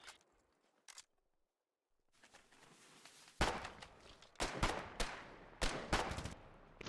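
Gunfire from a Foxhole war game's frontline fight, a machine gun position heard as loud sharp bursts of shots in the second half after a quiet stretch, several separate volleys with some fainter shots earlier.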